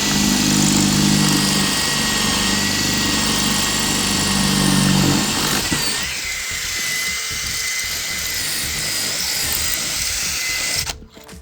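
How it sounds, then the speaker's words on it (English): A power drill whirs loudly for about five seconds, drilling two holes to mount a sprinkler controller, then drops to a lower, steadier motor hum that continues until a brief clatter at the end. "now I'm gonna drill the 2 holes."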